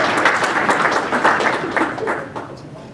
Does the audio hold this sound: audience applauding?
yes